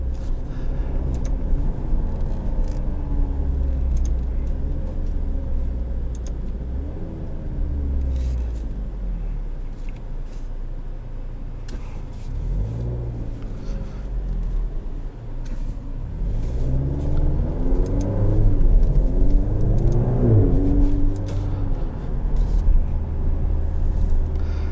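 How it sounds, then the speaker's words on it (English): Deep engine of a 2023 Maserati Grecale Modena SUV rumbling and revving up through gears, pitch rising and dropping with each shift, with a low burble between upshifts. "You do get the upshift, not fart sound, it's a Maserati"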